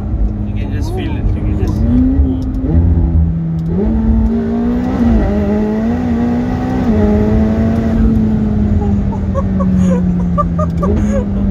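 A tuned 900-horsepower McLaren 720S with an aftermarket exhaust revs and accelerates with a loud, rising exhaust note, pitch climbing and dropping through gear changes, with voices underneath.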